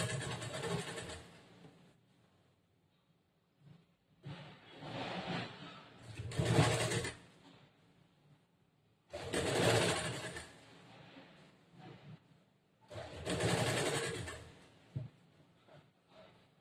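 Sewing machine stitching a blouse, running in four separate bursts of steady mechanical whirring with quiet pauses between them, up close and with no talk.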